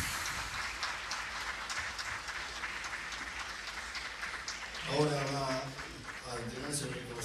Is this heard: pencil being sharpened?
no